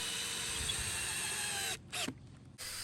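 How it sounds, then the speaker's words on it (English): A power drill drives a lag bolt into wood at close range, whirring steadily, then cuts out briefly, restarts for a moment and stops again. "and drive in the lag bolt"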